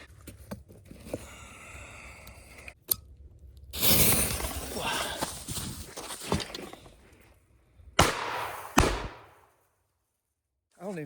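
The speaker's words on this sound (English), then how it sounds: "Maybe we should try putting a firework up here." Fireworks set off against a rotted standing tree outdoors: a sharp crack, then a loud crackling burst lasting a couple of seconds, followed by further sharp pops and a fizzing tail, with brief voices between blasts.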